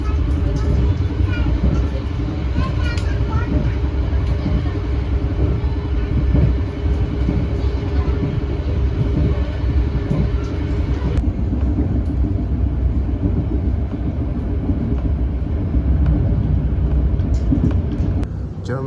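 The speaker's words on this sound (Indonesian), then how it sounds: "jadi ya kereta ini bisa digeber sampai kecepatan maksimalnya" A continuous, heavy rumble of the Ranggajati passenger train running at top speed on a straight section, with steady low roar and rattling throughout, no pauses.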